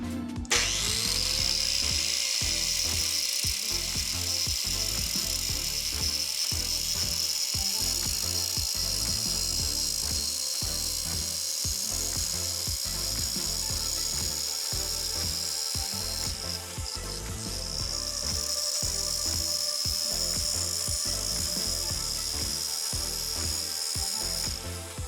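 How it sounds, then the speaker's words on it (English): Steady, continuous grinding as a bevel is ground flush across the width of a carpet blade for a ride-on floor scraper, loud and unbroken with a bright high hiss and gritty low rumble throughout. "we're going to grind this back flush with this edge all the way across the width of this blade"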